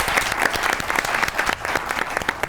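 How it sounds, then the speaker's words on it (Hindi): A studio audience on a Pakistani talk show claps steadily, a dense, continuous patter of applause at moderate volume with no talk over it. "ताली बजाइए इनके लिए।"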